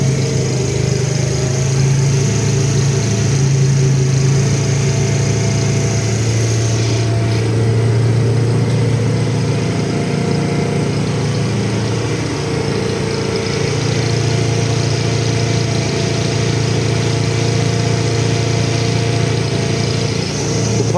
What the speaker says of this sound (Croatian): Upalio nakon dugog verglanja.